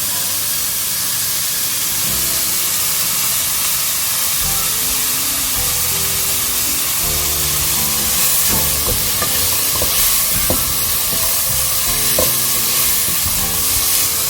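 Onions sautéing in a pot for minestrone soup, a loud constant hissing sizzle with scraping stirs and clinks toward the end, close up and without talk.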